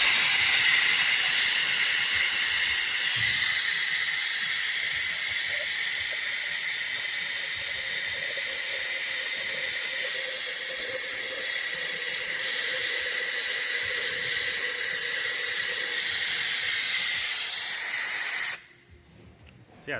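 Snap-on vacuum extractor pulling old brake fluid from a reservoir, a loud continuous hiss for about eighteen seconds that cuts off abruptly.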